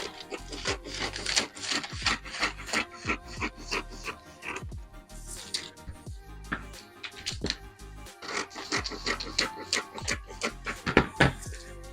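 Scissors cut through fabric to shape a one-shoulder neckline, giving a close run of rasping, crunchy snips in uneven bursts with brief pauses between cuts.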